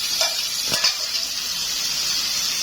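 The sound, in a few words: liver and gizzards frying with onion in pot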